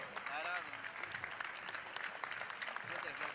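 Audience at the Poncho 2022 festival in Catamarca applauding the choreographers, steady dense clapping from a large crowd heard through a loudspeaker voice talking over it.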